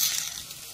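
Idli Manchurian frying in a pan, a brief steady hiss of sizzling oil heard close up, with no voices.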